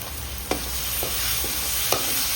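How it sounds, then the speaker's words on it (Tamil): Ginger garlic paste sautéing in a pan for a country chicken fry, a steady close sizzle with a few sharp scrapes of stirring, no voices. "இஞ்சி பூண்டு பேஸ்ட் நல்லா வதங்கிடுச்சு"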